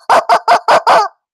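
A chicken clucks five times in quick, even succession, loud and close, the last cluck drawn out slightly longer before silence.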